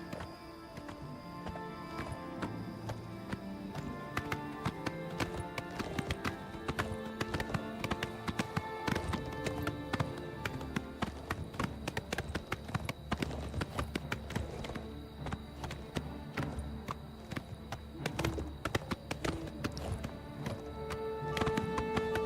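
Horse hooves galloping in the video game Oblivion Remastered, a rapid, steady clip-clop of hoofbeats throughout, with game music and sounds underneath.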